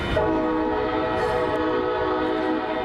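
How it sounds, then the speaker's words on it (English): A loud, sustained train horn blares steadily with a rich chord of tones, continuous and close, with rumbling railway noise beneath it, around downtown San Diego. "In January, train horns went off at all hours in and around downtown"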